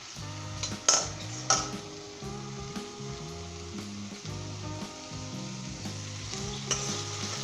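Moong daal tarka sizzles in a pan over medium heat, a steady frying hiss under repeated rhythmic stirring, with a couple of sharp utensil clinks against the pot.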